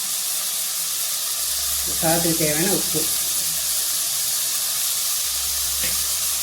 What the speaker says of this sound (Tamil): தக்காளி நல்லா வதங்கணும் இல்லைங்களா, அதுக்கு மஞ்சள்